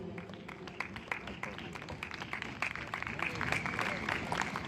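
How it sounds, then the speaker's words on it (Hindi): Audience applause at a felicitation ceremony honouring defence veterans: scattered, crisp hand claps in a hall, moderately distant, thickening into steadier clapping toward the end. "तालियां तालियां कंटिन्यूस प्लीज"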